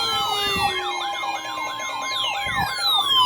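A wailing emergency alert siren cycles steadily through several rising and falling sweeps, loud and continuous, with a second siren tone gliding downward near the end; no one speaks.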